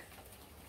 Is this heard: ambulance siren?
no